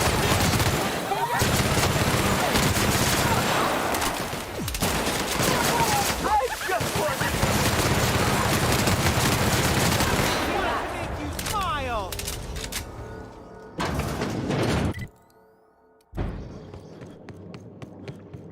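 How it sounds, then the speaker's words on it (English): Dense, continuous automatic gunfire from a shooter game played on hard difficulty, loud and sustained for several seconds, then thinning into scattered shots and clanks with a brief silent gap near the end. A voice talks over the firing. "Returning fire!"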